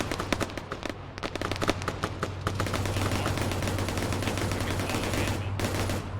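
Dense gunfire in a military video game set in a nighttime Livonia versus NATO wargame, rapid sharp shots and bursts that thicken into a sustained roar of overlapping fire, loud and close.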